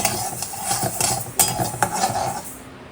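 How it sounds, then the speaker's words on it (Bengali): Raw mung dal is dry roasted in an open pan, making quick rattling scrapes and metallic clinks as a utensil stirs the grains in an irregular rhythm, close and fairly loud. "এই যে কাঁচা মুগে ডাল করবো একটু শুকনো খোলা ভেজে নিচ্ছি"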